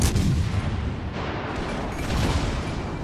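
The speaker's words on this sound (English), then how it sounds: "So you can see I'm taking incoming fire." Heavy naval gunfire from World of Warships Legends plays as dense rumbling booms and explosions hitting a Japanese cruiser, continuous and loud across the whole stretch, with no talk.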